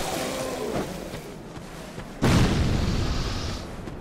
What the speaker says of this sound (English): throw a bomb at me